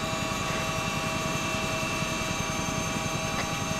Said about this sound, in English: Is that our helicopter?